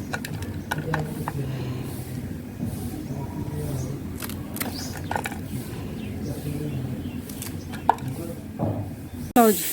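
Green chillies are sliced into pieces with sharp, irregular knife taps on a board, fairly close, while someone talks over the cutting.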